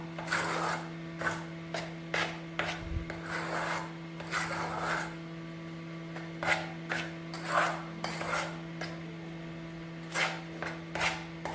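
A spoon stirs thick, creamy shrikhand by hand in a bowl, making repeated soft rubbing and scraping strokes in an irregular rhythm. The sound is close and moderately quiet over a steady low hum, and no one speaks.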